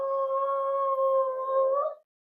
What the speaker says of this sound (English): I feel like my dog is going to start howling